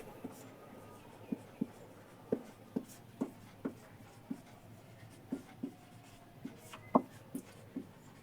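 Chalk tapping and scratching on a classroom board while a two-variable linear equation is written: a steady run of sharp short strokes, close and fairly faint, with no one speaking.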